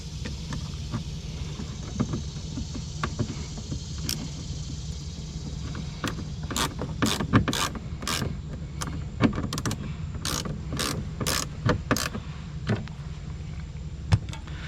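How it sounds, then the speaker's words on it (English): A lever pulled on a Dodge Ram 1500 quad cab front driver's door sets off sharp clicks from the mechanism inside the door, arriving in a quick irregular burst of loud snaps over a low steady hum. "You can hear that when I pull the lever, you can hear all that inside there, the gadgets."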